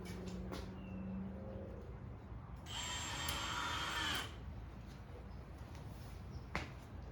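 Small screws driven into a square drop camper's wall, a short burst of a power driver whirring steadily for over a second amid quiet workshop background, with light tapping before and after.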